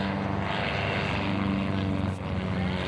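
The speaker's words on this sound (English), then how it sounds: "most of an Interstate Cadet, a 1942 airplane that he's restored meticulously" A restored 1942 Interstate Cadet propeller airplane flies at an airshow, its engine and propeller giving a loud, steady, close drone that holds throughout.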